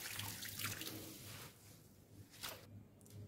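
Ugu and waterleaf greens are swished and rinsed in water, soft splashing and trickling close by, quiet and intermittent.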